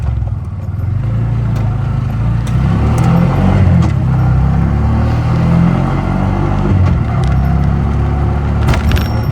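Freshly repaired vehicle started up and run on trial, its engine droning loud and steady close by for the whole stretch with slight swells in revs.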